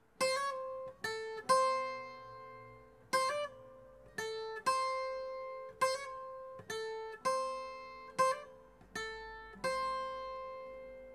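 Requinto guitar picking a slow phrase with hammer-ons and pull-offs: about a dozen bright, clipped plucked notes in a steady, unhurried rhythm, quiet and solo.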